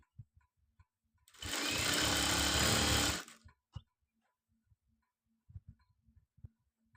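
A sewing machine stitches a school uniform in one sustained run of about two seconds, close and loud, followed by quiet clicks and handling taps.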